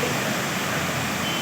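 A sudden heavy downpour beginning in Semiliguda, heard as a constant, close hiss and rush of rain at an even loud level, with no talking over it.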